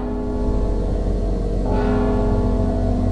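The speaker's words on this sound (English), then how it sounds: "Don't you hear the bell?" A bell rings in the video game Mark of the Ninja, its sustained metallic tones holding steady over a dense, continuous in-game backdrop, loud and unbroken with no talking.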